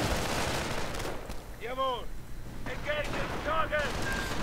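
Gunfire from a World War II strategy video game rings out in a few scattered shots beneath a steady bed of battle noise and continuous commentary.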